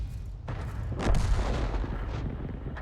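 Tank gun firing in an online tank battle game, a single deep boom that rolls out into a long low rumble, loud and heavy, with no voices over it.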